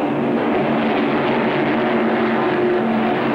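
An offshore powerboat racing fleet at the 1975 Marina del Rey race runs toward the starting line at about 45 miles an hour, a steady, loud, droning roar of many engines with no talk.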